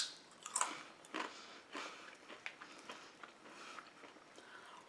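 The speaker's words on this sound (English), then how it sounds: "It has that great kettle style chip crunch." Kettle-style potato chips are bitten and chewed up close, a series of sharp crisp crunches followed by quieter rhythmic chewing, soft overall with no voices.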